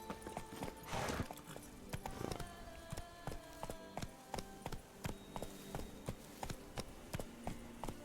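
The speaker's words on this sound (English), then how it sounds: "let's call forth the horse" Horse hooves clip-clop in The Witcher 3 video game as the mount is called and trots up, a steady, evenly spaced run of hoofbeats at moderate loudness with no talking over it.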